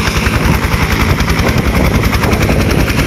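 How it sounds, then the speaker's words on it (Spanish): A helicopter thunders close by, its rotor beating in a loud, fast, steady chop that fills the whole stretch. "el abogado Vladimir Miranda es ingresado al helicóptero"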